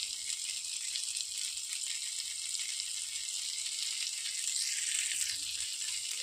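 Paneer tikka frying in desi ghee on a flat tawa gives a soft, even sizzle and hiss that holds steady throughout, quiet and close, with no voices.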